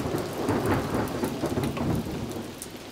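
Heavy rain and thunder at a mine rescue drilling site, a dense continuous downpour under low rolling thunder rumbles, loud and close with no voices.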